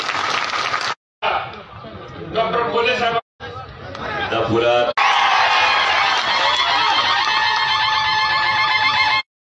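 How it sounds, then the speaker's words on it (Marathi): A crowd at a political rally breaks into loud, sustained applause and cheering that fills the final four seconds, following a stretch of someone speaking through a public address system. "आपण सर्वांनी टाळ्या वाजवून त्यांचं मनापासून या ठिकाणी"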